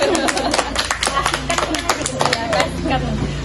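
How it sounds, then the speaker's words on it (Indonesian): A group of children claps hands in a quick, uneven burst, loud and close, with a babble of voices mixed in. "Tepuk tangan."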